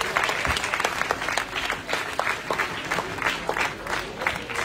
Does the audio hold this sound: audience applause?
yes